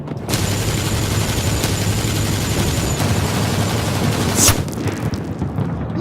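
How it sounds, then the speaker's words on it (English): Sustained gunfire in a comedy sketch, a continuous loud crackling roar with a few sharp cracks standing out, close and unbroken for several seconds. "Just keep shooting!"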